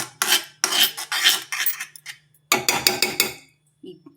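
A metal spoon clatters and scrapes against a bowl in uneven bursts while mixing a leaf-based skin remedy and breaking up lumps, a clear gap midway before the scraping resumes, with no talking.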